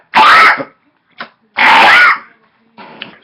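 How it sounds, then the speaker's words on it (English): A person coughs harshly: two loud, rough bursts about a second apart, each followed by a smaller catch of breath or throat sound, close to the microphone, with no talking. "Yeah, that was a horrible cough."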